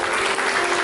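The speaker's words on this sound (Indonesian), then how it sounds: "Mari kita sambut firman Tuhan dengan tepuk tangan yang meriah" A church congregation breaks into a brief, dense burst of clapping that fills the room evenly.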